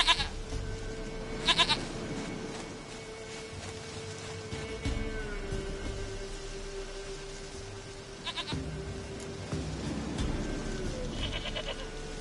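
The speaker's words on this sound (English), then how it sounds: "Goat of mine, dearest, sweetest goat." Goat bleating in The Witcher 3 video game, several wavering bleats recurring over about twelve seconds against steady in-game ambience and a low background tone.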